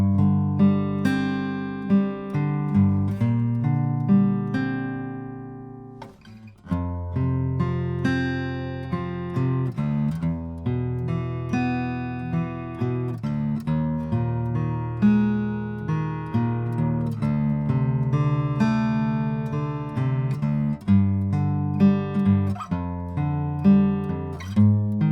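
An acoustic guitar fingerpicks the verse of a song, with picked notes and sustained chords, steady and unaccompanied, with a short pause partway through.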